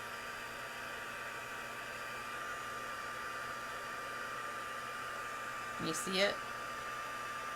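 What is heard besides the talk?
embossing heat tool blowing hot air to melt powder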